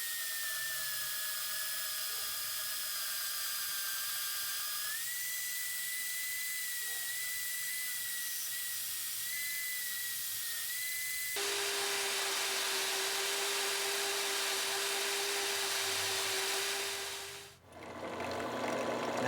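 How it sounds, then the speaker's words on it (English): A drill bores holes through the steel guard of a 5160 steel Bowie knife, a steady high whine that shifts pitch partway through and cuts off near the end. "go ahead and drill our holes through the guard"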